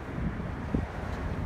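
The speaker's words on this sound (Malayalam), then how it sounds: "നല്ല കാറ്റടിക്കുന്നുണ്ട് ഇവിടെ" Strong desert wind buffets the microphone in a steady, loud low rumble that fills the whole moment, with no voices heard.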